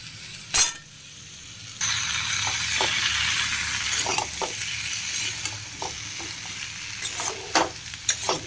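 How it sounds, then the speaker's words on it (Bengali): Potatoes frying with curry leaves in a hot pan: a loud, steady sizzle close up, broken by repeated scrapes and clinks of a spoon stirring, with no voice. "এবার হালকা করে পটেটো একটু ফ্রাই করব, বেশি এটা ফ্রাই করবো না, একটু ফ্রাই করব।"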